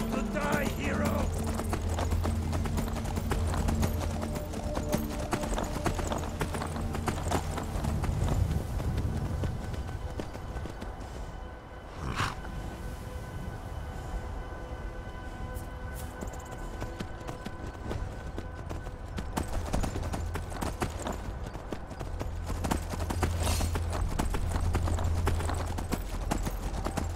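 Horse galloping in the video game Skyrim, a steady rapid clip-clop of hooves running on and on, close and loud over game ambience and music, with a brief snort partway through.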